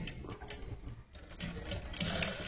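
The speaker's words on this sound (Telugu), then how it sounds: "ఇలా మిషన్ కుట్టు రానివ్వండి" A sewing machine stitches piping onto a blouse, its needle chattering in a steady, fast mechanical rhythm close by, pausing briefly partway through before running on again.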